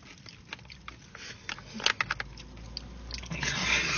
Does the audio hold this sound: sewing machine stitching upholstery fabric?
no